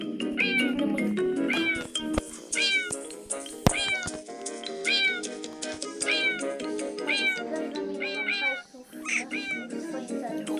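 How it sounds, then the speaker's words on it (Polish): Repeated cat meows from the video game Cat Sim, many short calls in quick succession over a busy, musical background with some talking. "jakieś koty dziwne są na tej mapie"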